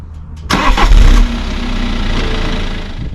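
A BMW X5 SUV engine turns over and catches with a loud exhaust roar, then settles into a deep, steady idle close by.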